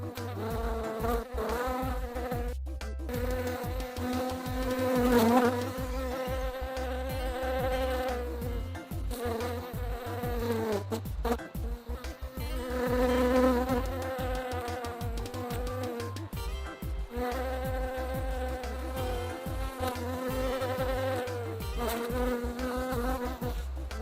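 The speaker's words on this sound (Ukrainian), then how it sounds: "Подивилися, яка бджола, поспостерігали за нею." A bee buzzes steadily and loudly up close, its drone rising and falling in pitch as it moves, continuous for a long stretch.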